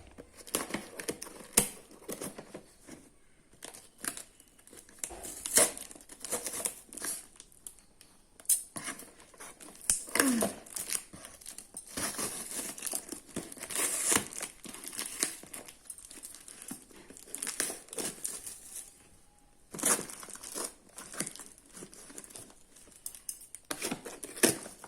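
Plastic packaging for a Blue Heaven primer and makeup fixer combo crinkles and rustles as it is unboxed, making close, continuous crackling with frequent sharp bursts and a few quieter pauses.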